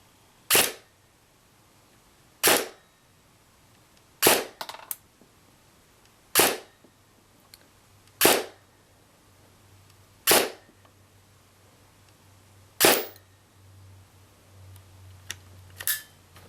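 A VFC M27 IAR airsoft rifle fires single shots through a chronograph, eight sharp clacks spaced roughly two seconds apart, close and clear in a quiet room.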